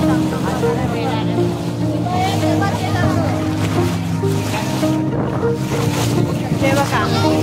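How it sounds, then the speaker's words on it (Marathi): Waves and wind at the river-sea confluence on Devbag beach in Malvan, a loud continuous rushing surf with gusty wind buffeting the microphone, and people talking over it. "इकडे नदी आणि समुद्राचा हा संगम आहे"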